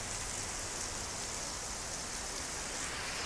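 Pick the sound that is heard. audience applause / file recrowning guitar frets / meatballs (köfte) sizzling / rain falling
rain falling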